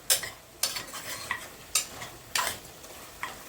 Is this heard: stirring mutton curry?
yes